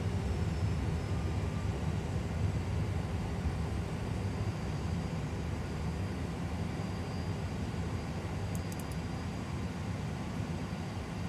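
Steady broadband roar of engines in reverse thrust as an A320 full flight simulator decelerates after landing, continuous and moderately loud with no talk over it.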